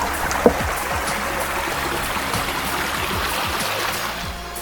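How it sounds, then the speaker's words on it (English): A small creek flows beside the Appalachian Trail, a steady close rushing and trickling of water that runs unbroken and alone with no voices. "about to cross a little creek"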